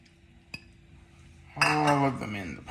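Cooked shrimp tumble into a pot for a Shrimp Orleans dish, a short clatter and clinking of metal and shellfish against cookware following a single earlier tap, close and fairly loud with no talking.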